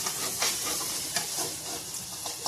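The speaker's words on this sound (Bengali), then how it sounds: "এখন মাংসটা কুকারে ঢেলে দিচ্ছি।" Goat meat being poured into a pressure cooker for a Bengali-style curry sizzles loudly and steadily, with scraping stir noises and a few brief bursts of hissing, and no talk over it.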